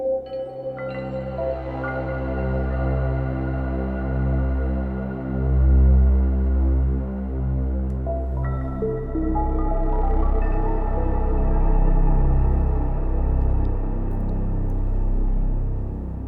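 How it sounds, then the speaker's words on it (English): Waldorf Iridium synthesizer playing a sustained ambient pad drenched in Valhalla Supermassive reverb, with layered harmonic tones swelling and shifting over a steady low drone, alone with no talking. "The first sound is from the Waldorf Iridium and sounds like this."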